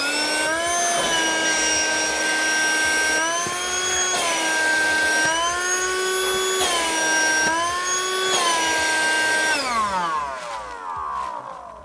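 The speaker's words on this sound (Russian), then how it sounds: "Мы послушаем, как срабатывает изначально пылесос" A small STHOR 82953 car vacuum cleaner runs with a steady, high whine that shifts pitch slightly several times, then winds down at the end.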